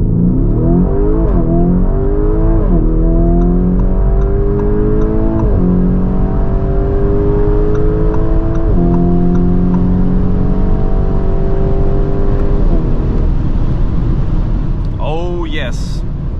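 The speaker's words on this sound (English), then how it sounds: "Let's head out onto the Autobahn and see how fast it goes, 100 to 200, because there we can really feel the power." A Lamborghini Urus Performante with 666 hp accelerates hard from 100 to 200 km/h on a slight uphill Autobahn stretch. The engine is loud and continuous, its pitch climbing in repeated sweeps with brief dips at each gear change, amid road and wind rumble.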